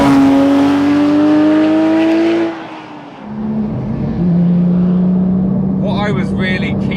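A Porsche 911 GT3 997.2 in sport mode with its exhaust flaps open revs loudly and steadily, then the note drops and settles into a lower, sustained engine tone, with a voice coming in near the end.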